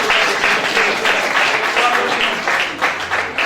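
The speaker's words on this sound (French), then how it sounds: "On applaudit" An audience claps through a formal graduation-style ceremony for ENT health trainees in Niger, loud continuous applause with a faint voice underneath at moments.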